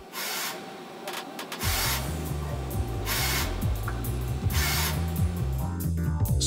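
Horkos NJ50 twin spindle bedless machining center running, a continuous mechanical whir with a rhythmic low pulsing and scraping cutting noise, steady and close throughout with no voices.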